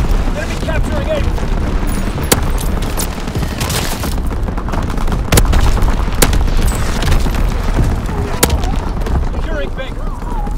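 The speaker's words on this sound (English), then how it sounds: "Firing primary battery." Artillery battery firing in a WW2 video game, a dense continuous barrage of booms and explosions with sharp cracks standing out, loud and sustained throughout with gunfire mixed in.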